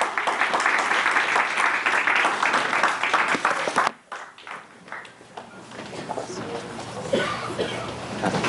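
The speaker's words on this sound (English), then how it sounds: "Loud round of applause, please." An audience at a CHAZAQ Shalom Workshops event breaks into loud, dense applause that stops sharply around the four-second mark, followed by scattered claps, murmuring and a voice beginning to speak.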